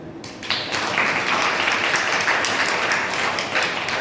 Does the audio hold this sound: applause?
yes